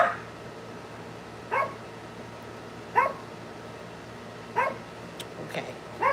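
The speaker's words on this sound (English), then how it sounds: "She's barking that way. The other three are over there, barking that way." Dogs bark outdoors at night in spaced single woofs about every second and a half, moderately distant over a low steady background hum.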